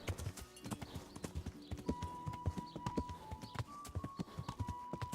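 Horse hooves in Kingdom Come: Deliverance, a fast, even clip-clop of galloping hoofbeats, close and continuous, with a faint tonal game sound running underneath.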